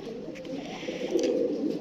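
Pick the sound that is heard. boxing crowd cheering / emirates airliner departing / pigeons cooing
pigeons cooing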